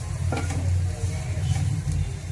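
Carrot and grated coconut stir-fry sizzling steadily in a pan, a continuous close frying hiss with a few stirring scrapes, no talking.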